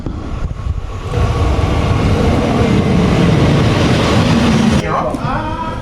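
A train pulls into a station on the route to Saint-Malo in France, making a loud, steady rumble and rolling roar with a brief squeal near the end, while people talk underneath.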